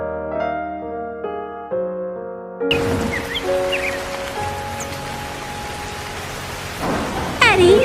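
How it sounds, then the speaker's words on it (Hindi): Cartoon rainstorm: after a short musical opening, rain pours down loudly, with rolling thunder and a louder crack near the end. "अरे इस मुई बारिश को अभी शुरू होना था।"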